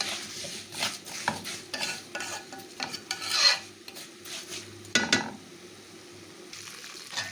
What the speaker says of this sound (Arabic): كده ابتديت اقلب الشعريه